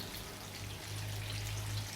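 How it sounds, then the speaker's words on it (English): Excess cooking oil is poured off from a pan while making Jamaican chicken breast and ackee, a short steady trickle and splash close by with no talk. "so I removed some of the oil"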